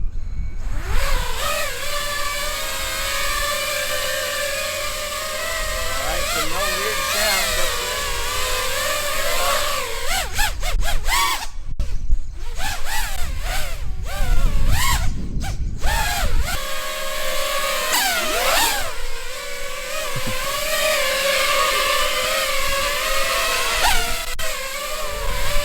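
A drone's motors, two of them freshly replaced, whine up and down in pitch, close and loud, with several sharp rises and a few brief cutouts across the run.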